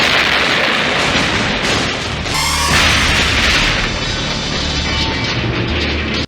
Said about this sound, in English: then shoot a propane tank, sending it into a free fall, maybe destroying it